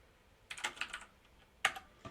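Commands are typed on a computer keyboard in a bash terminal: quick bursts of crisp, close key clicks, a flurry of several presses followed by a pause and then a couple more sharp taps, with no talking.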